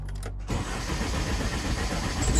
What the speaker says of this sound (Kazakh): Жақсы, енді көлікті оталдап көреміз.